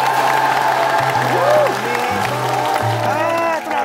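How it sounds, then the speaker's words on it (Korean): Studio audience on a Korean TV talent show applauding steadily, a broad wash of clapping that runs under music and voices throughout. "큰 박수로 해주시기 바라겠습니다"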